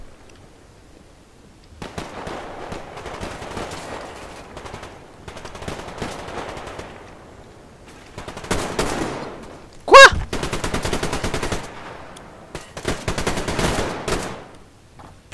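Gunfire in the online shooter game Survarium, bursts of rapid automatic shots in several separated volleys, with one sharp, loud crack standing out partway through, no speech over it.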